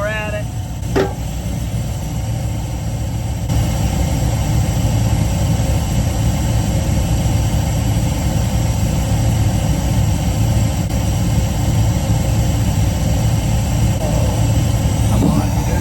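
A 1979 Chrysler 300 project car's engine idles steadily with a rough, low rumble that continues unchanged throughout, while a person talks nearby.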